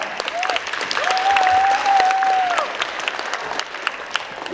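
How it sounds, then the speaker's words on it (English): Audience applause at a middle school Black History Month program welcoming the Oberlin College Jazz Band, steady clapping from a crowd with a held whistle rising over it midway. "Give a round of applause."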